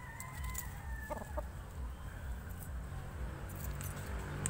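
Fighting cocks kept tethered in Bonbon, Oslob, Cebu, heard as a steady outdoor clucking with a few thin crowing calls, close and fairly faint.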